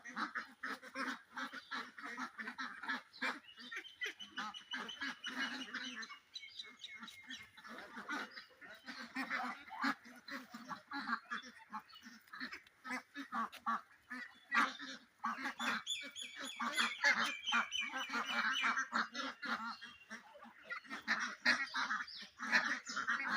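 Ducks and fowl on a farm quack and honk almost continuously, a dense overlapping chorus of many birds close by, rising and falling in bursts with no talking over it.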